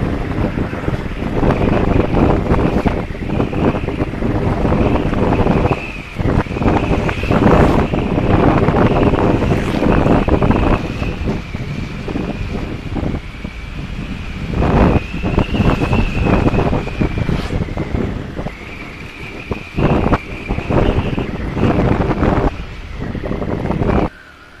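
Wind and surf at a beach in Bali: strong gusts buffet the microphone in loud, uneven bursts over a constant wash of breaking waves, with short lulls between blasts.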